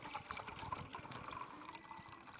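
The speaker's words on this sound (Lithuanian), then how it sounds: "Vandenuks jau bėga." Water running and trickling outdoors in a forest, a faint, steady flow with small splashing, gurgling bursts.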